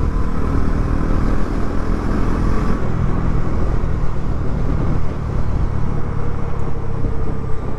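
A Bajaj Pulsar NS400Z motorcycle engine drones steadily and close while being ridden, with a brief dip in the roar as the rider shifts up into fourth gear before the engine note resumes.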